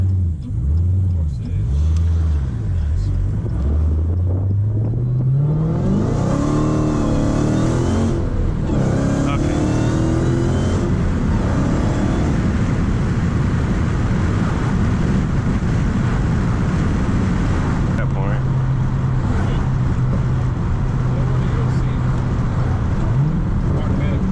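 A manual Dodge Hellcat Challenger with a muffler delete, doing donuts: loud engine revs climb and fall before the car settles into a sustained roaring drone, with people talking over it.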